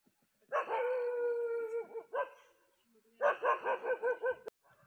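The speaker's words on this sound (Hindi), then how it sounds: "दोस्तों जैसे कि डॉग बोल रहा है" A dog barks and howls continuously near a tiger inside an enclosure, with a long drawn-out howl followed by a quick run of several sharp barks, loud and close with no talking.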